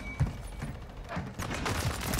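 Rapid gunfire from a DG 58 LSW light machine gun in Call of Duty: Modern Warfare 3, a continuous rattle of shots with a few sharper bursts standing out over steady game noise.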